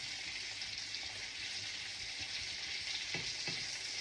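A half-cooked chicken breast fillet sizzles steadily in hot oil, with a couple of faint clinks as it is turned over, and no talk.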